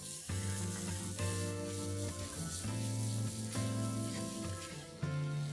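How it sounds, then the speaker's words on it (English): Ginger garlic paste sizzles in a pot with caramelized onions, a steady crackling fry under a droning tonal background that pulses in short phrases, with no talking. "The onions have caramelized a bit and now I'm going to add the ginger and garlic paste."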